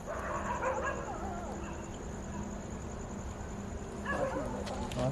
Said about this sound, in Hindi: उसके बाद कुत्ते भौंकना शुरू हो गए।